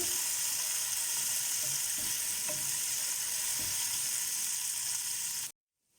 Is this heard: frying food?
yes